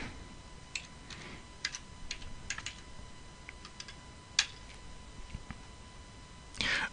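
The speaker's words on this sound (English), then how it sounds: "I'll just type that in directly" Light typing on a computer keyboard while entering a loan amount into an Excel spreadsheet, a sparse scatter of faint clicks and taps over a quiet room hum, with a slightly louder flurry of keys at the end.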